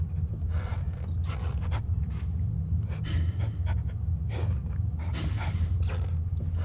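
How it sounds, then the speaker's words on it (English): A dog pants in the Penumbra: Overture horror game, a steady series of rough breathy huffs over a low droning hum, fairly close and with no talking. "Sounds like it could be a dog"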